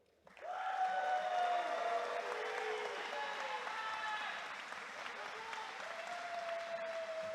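Sustained audience applause at the California Aeronautical University 2023 graduation ceremony, rising quickly and holding steady as a dense wash of clapping with some crowd noise.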